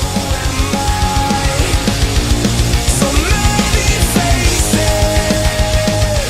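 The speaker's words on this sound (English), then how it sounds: "clean singing that sounds a bit like this" Clean melodic vocals from a band's frontman ride over a dense melodic metal track, with pounding rhythmic drums and guitars filling the mix loudly throughout.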